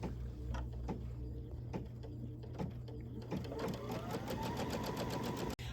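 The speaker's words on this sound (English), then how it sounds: "what it's going to stitch next is the fabric tack down" A Kimberbell embroidery sewing machine stitches a fabric tack-down, its needle running in a rapid, even mechanical chatter with intermittent thumps, close and steady with no voices.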